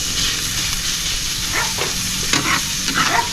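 Carrots sauté in a hot pan with a soft, steady sizzle and hiss, broken by a few quick stirring scrapes toward the end.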